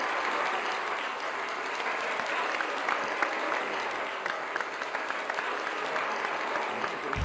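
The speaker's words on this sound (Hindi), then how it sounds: "बहुत सारी तालियां।" Dense, sustained applause from a studio audience at a late-night talk show, many hands clapping steadily at close range without pause, with no clear speech over it.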